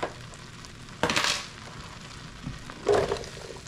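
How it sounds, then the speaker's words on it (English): Cleaned mushrooms tipped into a hot pan for Salisbury steak, two bright bursts of sizzling as they land, with a faint background hiss between, no talk. "We're going to add our cleaned mushrooms."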